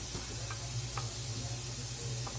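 Chopped onion and pepper frying in a pan for a refrito, a faint steady sizzle with light scattered ticks of stirring, no voices.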